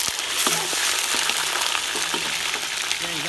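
Dried chili, Sichuan peppercorns, sliced garlic and sliced ginger hit a generous pool of hot oil in a rural Chinese home kitchen. The result is a loud, dense, crackling sizzle, close and continuous for a few seconds, with no voices.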